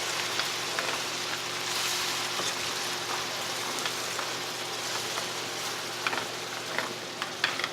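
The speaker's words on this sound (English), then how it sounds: "we now deglaze it with white wine" A pan deglazed with white wine for lasagna sauce gives a steady, close hiss and sizzle, crackling evenly with small pops toward the end.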